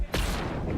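Gunshots in the fighting video game Injustice 2 at a tournament match: one sharp, loud blast followed by a booming, rumbling tail lasting under a second.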